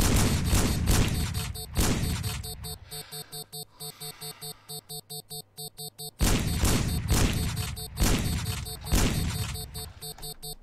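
Video game gunfire in Sneak Thief, loud rapid shots and booming bursts repeating in close succession with a brief lull of rhythmic pulsing between volleys, mixed game effects throughout.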